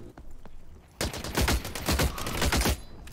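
Bursts of rapid gunfire in The Cycle: Frontier, beginning with faint distant pops before a loud close volley of quick repeated shots rattles on for about two seconds.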